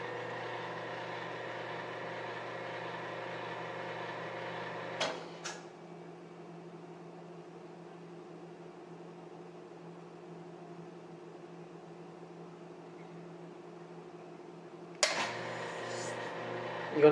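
An espresso machine running its automatic cleaning cycle hums steadily, drops to a quieter drone after a click about five seconds in, then returns to the louder running hum with another click near the end.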